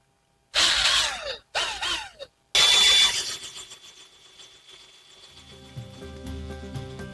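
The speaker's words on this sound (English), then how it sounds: "I wind them off onto a different spindle using a power drill." A power drill winds freshly spun Jacob wool singles onto a spindle, giving three short, loud whirring bursts that rev up and stop, followed by a quieter, lingering mechanical hum.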